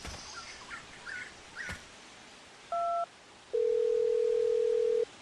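A phone call to dad: a short dial tone cuts in, then a longer steady ringback tone sounds clearly after a brief gap, over faint outdoor ambience with scattered chirps.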